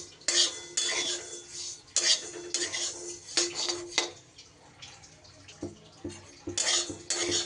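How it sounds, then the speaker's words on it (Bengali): Ingredients are dry-roasted in a dry pan and stirred for a minute or so. Repeated scraping and clinking strokes of a spatula against the metal come in close, uneven bursts with brief pauses between them. "এক থেকে দেড় মিনিটের মতো আমি এটা শুকনো খোলায় নাড়াচাড়া করে নিয়েছি"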